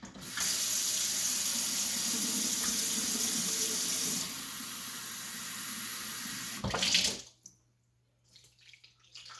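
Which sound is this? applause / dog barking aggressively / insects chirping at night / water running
water running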